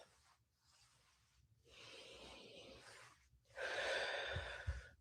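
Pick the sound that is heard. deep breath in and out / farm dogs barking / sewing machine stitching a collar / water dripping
deep breath in and out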